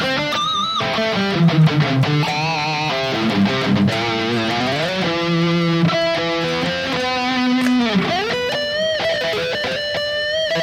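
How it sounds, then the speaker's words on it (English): Electric guitar lead played through a Kemper profiling amplifier with a dual ping-pong legacy delay bouncing left to right, sustained melodic notes and bends trailing echoes, loud and alone with no talking. "It's a dual delay and like a ping pong delay, switching from left to right."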